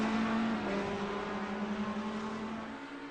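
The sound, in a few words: GT3 race cars accelerating at Charlotte Roval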